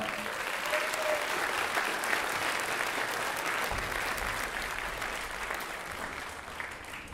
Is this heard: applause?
yes